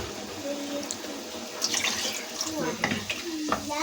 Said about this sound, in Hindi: ये देखेंगे 1 कप मैं मज़ीद पानी डालूँगी इसके अंदर।